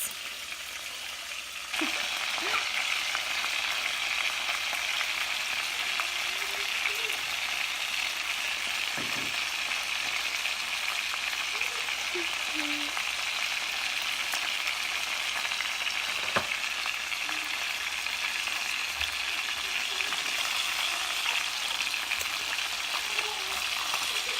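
Chicken pieces fry in a pot for Chicken Vesuvio with a steady, dense sizzle. The crackle is close and continuous, and a few faint clinks sound through it.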